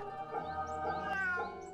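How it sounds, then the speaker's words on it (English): A cat in a video game meows three times in a row, soft and evenly spaced, over a quiet musical background. "it meowed."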